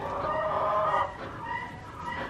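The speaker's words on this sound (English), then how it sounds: "That chicken was making a grumpy noise." A chicken at a petting zoo lets out a drawn-out, low grumbling cluck, then quieter muttering clucks, close by with no one speaking.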